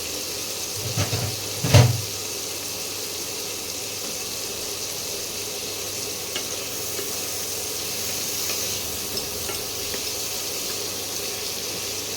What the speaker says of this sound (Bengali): চিংড়ি মাছটা বেশি ভাজবে নেই অল্প করে ভাজবো